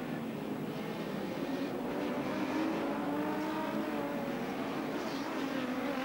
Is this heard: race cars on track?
yes